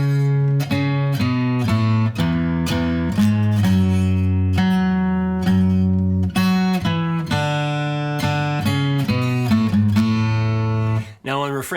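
Acoustic guitar played close and steady, strummed chords with a walking bass line starting on the major third of A, in a 1960s folk-rock style, continuous for several bars.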